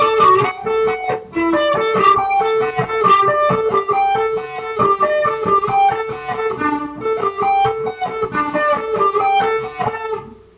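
Electric guitar, plugged in through effects, plays a song's rhythm part alone, with steady picked notes and chords running loud and continuous throughout.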